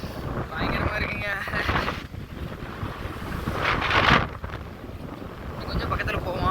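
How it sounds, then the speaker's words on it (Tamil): Strong wind buffets the microphone on the Kanyakumari seaside at sunrise, a continuous rushing roar with surf and waves beneath, gusting louder midway. "காற்று பயங்கரமாக அடிச்சுக்கிட்டு இருக்கு"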